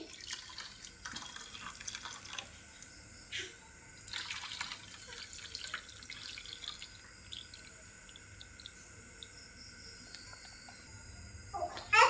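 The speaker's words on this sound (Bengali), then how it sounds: "এবার দুধের মিশ্রণটি ঢেলে দিচ্ছি।" A milk mixture for mango milk pudding is poured into two bowls over mango jelly, making faint, intermittent trickling and dripping sounds close by.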